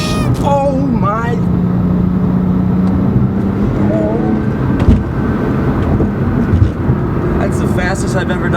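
A 2007 Porsche 911 Turbo with all-wheel drive is driven hard through a ramp and braked heavily, giving a steady close engine roar with tire and wind noise, while excited voices talk over it.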